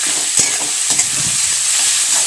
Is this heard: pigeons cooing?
no